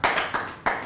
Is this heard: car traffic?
no